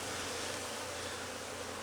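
Aggressive honey bees swarming around an opened hive, a dense continuous buzzing close by and fairly loud, with no pauses.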